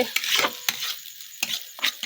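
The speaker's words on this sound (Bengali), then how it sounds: "মশলা ভাজা ডান" Spices and egg frying in a pan with noodles about to follow, heard as a soft sizzle with several short scraping stirs of a spatula at irregular intervals, close and moderately loud.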